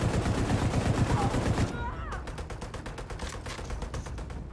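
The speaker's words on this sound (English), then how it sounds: "Damn, this gun's so fucking loud." Loud rapid-fire automatic gunfire in the shooter The Division 2, a dense, hammering burst for the first couple of seconds followed by quicker, spaced shots, with a voice briefly heard during the firing.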